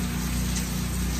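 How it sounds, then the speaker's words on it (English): Steady rain falls in the aftermath of Category 4 Hurricane Laura, an even, close hiss of drops with no break and no voices. "Well, now it's raining."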